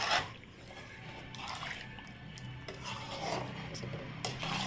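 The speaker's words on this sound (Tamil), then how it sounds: "நல்லா கிளறி விட்டுக்கணும்." Steady scraping and rubbing of a spoon stirring radish sambar in a pot, with faint wet sloshing, continuous and close.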